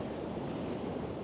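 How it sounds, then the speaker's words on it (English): Night surf at high tide breaks against a rocky shore with a slight swell, a soft continuous roar of water and wind with no voices. "these ocean waves crashing behind me here."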